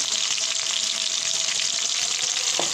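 Fenugreek, fennel seeds and garlic frying in hot oil for a Bengali shol fish and potato curry, a loud, steady close sizzle that runs throughout with no voices.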